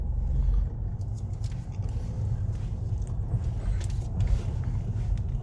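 A car pulls away slowly during a driving lesson, a steady low engine rumble holding close and even throughout, with faint rustling and light movement above it.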